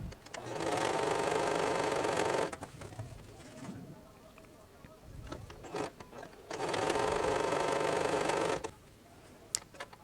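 A sewing machine stitches a pants waistband in two separate runs of steady whirring, with a quieter gap of rustling and handling sounds between them.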